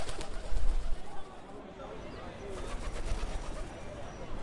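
Park pigeons coo softly in the distance beneath a steady blanket of outdoor ambience, the low cooing calls repeating irregularly with a louder rustle near the start.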